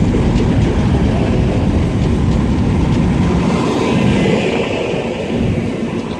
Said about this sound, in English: 185 142 coming from Newcastle, and we have 185 151 going to Scarborough from Liverpool Lime Street.